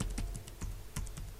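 Quick light keystrokes on a computer keyboard, a quiet run of irregular taps close by while entering commands during a Cisco SSH configuration.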